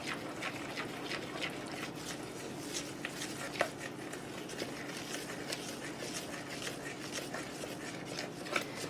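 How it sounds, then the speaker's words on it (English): Waffle batter being mixed in a bowl, a soft, busy, wet stirring and whisking with quick repeated taps against the bowl, close and fairly quiet. "All right, so I'm going to mix this."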